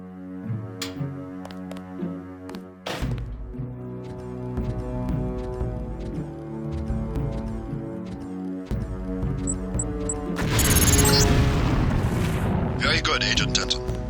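A LAM mine goes off in Deus Ex as one loud, booming blast that rumbles on for a few seconds. It follows a long stretch of spoken instructions over quiet electronic tones and a couple of sharp clicks.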